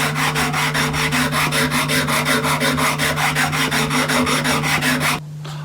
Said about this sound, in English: I use little abrasive pads.